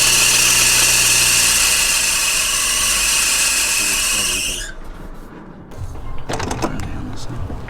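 A rusty Honda Civic engine running rough with a high whining squeal that cuts out, then settles into an uneven low idle, close and loud, with people talking nearby.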